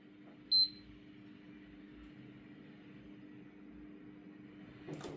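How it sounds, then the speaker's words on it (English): A PlayStation 5 console gives one short, high electronic beep from its power button while the button is held. The beep sounds crisp and close over a steady low room hum, and the rest of the clip is quiet. "long press your power button for 15 seconds until you heard a beep,"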